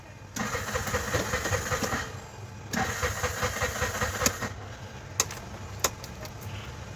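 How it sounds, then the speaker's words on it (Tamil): Bajaj BS6 CNG auto-rickshaw engine cranking in two long, steady bursts without catching, each lasting about two seconds, followed by a few sharp clicks; close and fairly loud with no talking. "வண்டி சிஎன்ஜியில் ஸ்டார்ட் ஆகலன்னாங்க."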